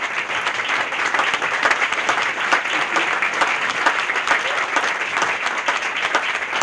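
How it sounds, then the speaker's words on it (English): A crowd at a chamber of commerce holiday dinner and dance claps in sustained, dense applause, steady and fairly loud throughout with no single voice standing out. "give you a round of applause"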